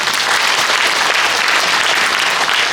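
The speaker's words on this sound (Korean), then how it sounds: "이대일 박사님께 다시 한번 큰 박수 부탁드리겠습니다" A lecture hall audience applauds Dr. Lee Deok-il at a Goryeong Gaya academic conference, dense, continuous clapping, loud and even throughout with no voices.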